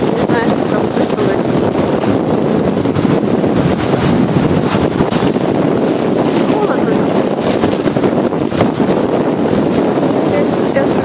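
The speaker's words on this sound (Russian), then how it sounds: "Ветер задувает, не знаю, что там слышно." Strong wind buffets the microphone on a black-sand Pacific Ocean shore in California, a loud constant roar mixed with crashing surf, and a voice speaks briefly over it.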